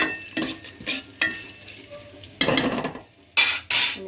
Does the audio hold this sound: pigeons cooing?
no